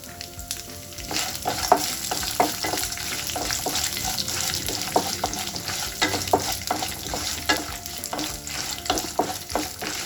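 Roasted peanuts and cashews frying in oil while being stirred, with a steady sizzle and repeated scraping and tapping strokes throughout, moderately loud and close.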